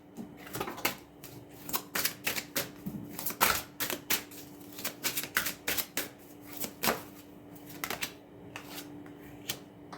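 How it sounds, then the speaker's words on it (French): Tarot cards being shuffled and drawn, a quick run of soft, close papery flicks and snaps coming in uneven bursts, with no voices. "Je vais tirer, on va voir, deux cartes."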